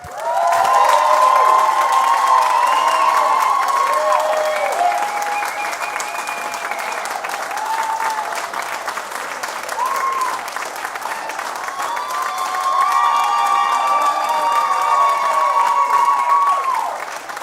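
A concert audience claps and cheers steadily at Eddie Owen Presents, with whoops and shouts rising at the start and again near the end, dense and loud throughout.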